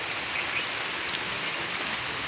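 Heavy rain falls in a steady, dense hiss on a rainy day, a continuous even wash with no voices over it.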